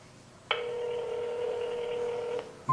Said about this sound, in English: that's been ringing for over a minute